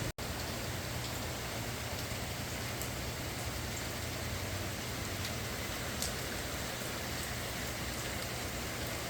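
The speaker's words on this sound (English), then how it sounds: "We so need the rain." Steady rain falls continuously, a dense even hiss of drops on surfaces with a faint low rumble beneath, with no voices throughout.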